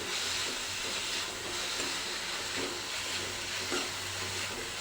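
Ground ginger and green chili paste sautés in a pan for a stuffed masala rotlo, a continuous close sizzling hiss with soft stirring scrapes underneath.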